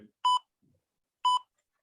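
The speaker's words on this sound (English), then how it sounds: "The timer's running out." Workout interval timer running out with two short, clear electronic beeps about a second apart in an otherwise quiet room, each beep a bright pure tone.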